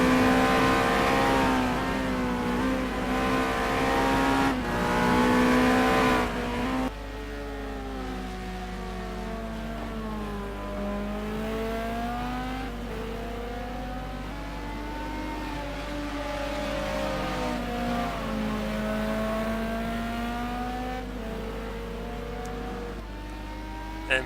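Race car in a simGT sim racing video game at the Phakisa circuit, engine revving loudly then dropping to a sustained rising and falling whine through the last turns, continuous and close.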